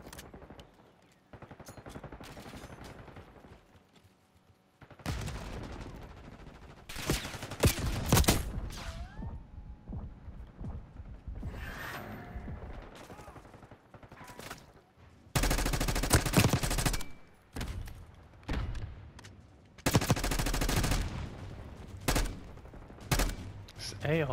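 Assault rifle fire in a Black Ops 6 team deathmatch rattles in repeated loud bursts and sustained volleys across the clip, broken by quieter gaps where talk and game noise sit underneath.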